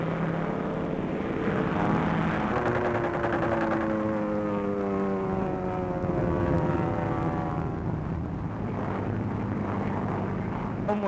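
Engines of a combat plane flying over enemy territory, a steady droning propeller roar with shifting tonal hum, continuous and loud throughout.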